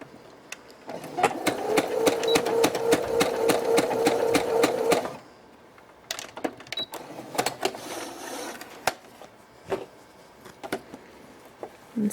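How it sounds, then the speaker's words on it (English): A sewing machine runs a quick straight stitch across a serger chain tail on a cloth pad, a fast loud rhythmic whir for about four seconds, then stops, followed by scattered handling clicks and rustles. "all I do at this point is a quick straight stitch across my serger chain, my serger tail"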